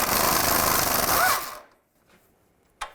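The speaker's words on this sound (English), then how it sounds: "You want to use a 15mm socket, take those 3 bolts out" A 15mm socket on a power tool buzzing rapidly as it runs out a bolt on a Chevy Trailblazer, a loud whirring burst that stops, then a short clack.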